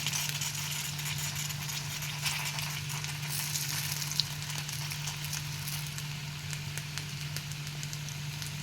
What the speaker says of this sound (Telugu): చూడండి మంచిగా ఫ్రై అవుతున్నాయి